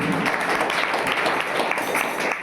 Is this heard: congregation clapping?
yes